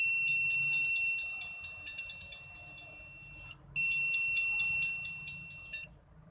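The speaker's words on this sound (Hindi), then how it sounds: "साथ वाले पॉइंट पे हमें बिल्कुल बजर में से म्यूज़िक की आवाज़ भी आएगी" A multimeter buzzer sounds in a continuity test on a mobile phone ringer circuit, giving a shrill, steady electronic tone that cuts out briefly and resumes, fairly faint against low background hum.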